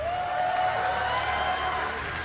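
A large audience applauds at the BlizzCon 2011 StarCraft 2 final, a dense, steady wash of clapping and crowd noise filling the whole moment with a faint tonal ring above it.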